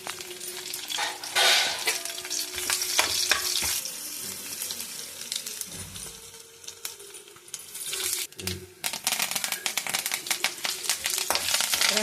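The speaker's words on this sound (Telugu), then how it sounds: "పోపు వేస్తున్నానండి." Tempering spices crackle and sizzle in hot oil for a peanut coconut chutney, a dense, steady frying hiss with sharp pops and spoon clinks throughout.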